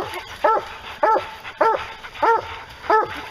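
A pack of hounds on a bear hunt barks in repeated bursts, about five loud barks spaced roughly half a second apart, close by.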